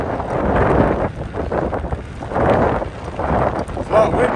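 Wind buffets the microphone of a rider cycling along the Ballona Creek bike path near Culver City, heavy low rumbling gusts that swell and fade in waves, loud and close throughout.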